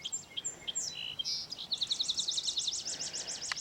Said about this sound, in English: I think it's just a swallow, but I'm not sure.